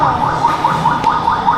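An ambulance siren wails in a steady, repeating rise-and-fall cycle, loud and continuous, inside a children's role-play theme park in Kuala Lumpur.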